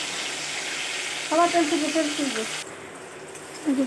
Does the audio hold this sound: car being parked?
no